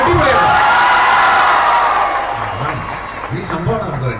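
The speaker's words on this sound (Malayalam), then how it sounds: "കയ്യടിയുടെ ബഹളമായിരിക്കണം, നമുക്കങ്ങ് തകർക്കാം" An audience at a college arts festival applauds and cheers in a loud, continuous roar that gradually eases, with scattered shouts and voices breaking through toward the end.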